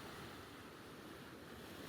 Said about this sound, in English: The sound of the waves and the wind feels very calming.